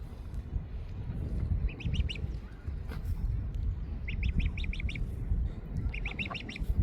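Short bursts of high, rapid quacking and honking calls from swan cygnets and geese come in three clusters over a steady low outdoor rumble.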